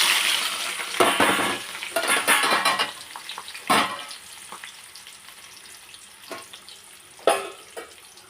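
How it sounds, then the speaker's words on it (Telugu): Mustard seeds and cumin crackle and sizzle in hot oil for a carrot curry, a steady frying hiss punctuated by sharp popping bursts and a few clinks of a pan, close and fairly loud. "ఆవాలు జీలకర్ర వేయాలి. అది వేగాలన్నమాట."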